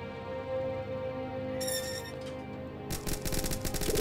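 Gunfire aimed at the player in Starbound, a short burst of shots followed by rapid repeated firing near the end, over a steady droning game soundtrack.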